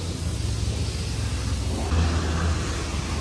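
An RV camper goes through an automatic wash, giving a steady low mechanical rumble and broadband spray noise that swells briefly midway, with no talk.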